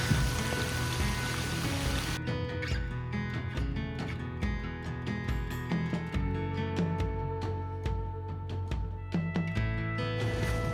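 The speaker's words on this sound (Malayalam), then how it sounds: "നല്ല മഴയാണ്" Heavy rain pours steadily on a muddy forest trekking trail on Keppel Hill in Singapore, a constant loud patter with scattered sharper drips and knocks throughout.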